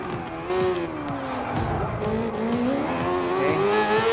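Mazda 787B rotary race car in Gran Turismo Sport, its high-pitched rotary engine wailing loudly and continuously, revving up and down between gear shifts with brief tire squeals, no talking.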